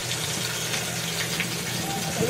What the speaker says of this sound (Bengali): গ্রেভিটাকে দিয়ে দিচ্ছি, গ্রেভিটাকে ভালো করে নাড়াচাড়া করে নিচ্ছি, আর এটাকে একটু হাই ফ্লেমে করে নিয়েছি